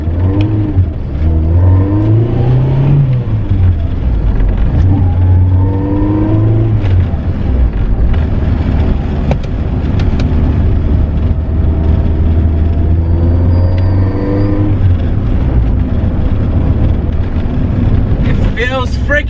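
A wagon with a loud aftermarket exhaust accelerating on the road, heard from inside as a deep droning engine that rises in pitch through each gear and drops between shifts, steady and loud throughout, with voices over it.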